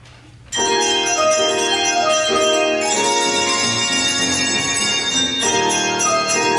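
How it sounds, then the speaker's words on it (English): Handbells rung by a women's alumni bell choir at a winter concert, sustained ringing chords that swell and overlap continuously, loud and full in a reverberant hall with no talk. "This is our Weber State Alumni Women's Bell Ringers."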